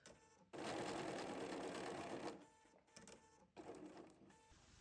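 A sewing machine sews a straight stitch along a curve in a crazy patchwork heart, a loud steady run broken by short pauses and restarts, each ending in shorter bursts of stitching.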